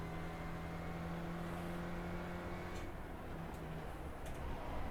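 A racing video game car engine drones steadily with a faint tonal hum, joined by a few brief ticks and knocks near the end; no talking.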